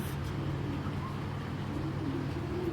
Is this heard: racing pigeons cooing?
yes